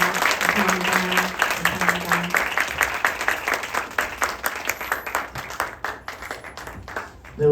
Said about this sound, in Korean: 우리 귀한 찬양과 간증해 주신 강한별 자매님께 큰 박수로